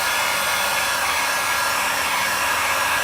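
Heat gun blowing hot air onto vinyl wrap on the front bumper of a 2015–2017 Subaru Outback, a loud, steady airflow roar held close and unbroken, with no talking.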